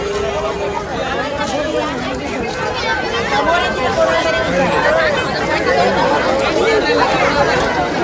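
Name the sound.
crowd at the Mhasa yatra fair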